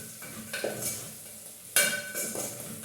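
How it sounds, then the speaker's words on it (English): Beef browning in a pot for Kenyan beef stew is stirred, with a steady sizzle, scraping utensil strokes against the pot and a sharp clank partway through. "So let me stir again."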